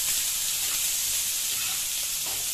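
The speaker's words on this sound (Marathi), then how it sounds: "कांदा गुलाबी रंग होईपर्यंत परतून घ्यायचा आहे." Chopped onion sizzles steadily as it is sautéed in a pan for a besan jhunka dish, a continuous bright frying hiss at moderate, close level with no talking.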